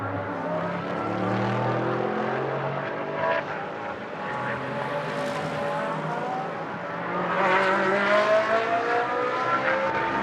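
GT race cars, including a McLaren, lap a circuit in Moscow during Blancpain Sprint Series free practice, engines droning at mid distance and swelling louder as a small queue of cars passes near the end.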